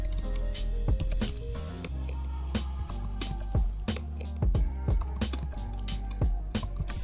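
Rapid typing on a computer keyboard while filling in an online school leave application, close and clear with irregular bursts of key clicks and a few heavier spacebar or enter thumps, no voices.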